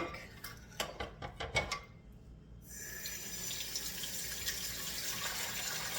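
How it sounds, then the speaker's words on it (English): A few clinks of a bowl in a kitchen sink give way to hot tap water gushing steadily into it while French bread dough is being made, close and continuous. "So fill it with hot water."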